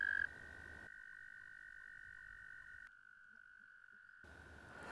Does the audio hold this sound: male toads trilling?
yes